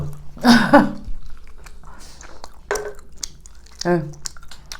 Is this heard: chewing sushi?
yes